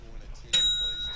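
A quiz show answer bell rings once, a bright single ding that cuts in sharply and lingers with a ringing tail, following a moment of low murmur.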